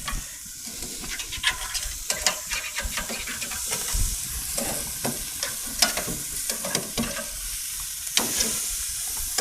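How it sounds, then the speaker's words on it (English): A beef steak for fajitas sizzles loudly in a pan after being flipped with tongs, a continuous hiss broken by crackles and the scrape and clatter of the tongs. "let's flip this steak"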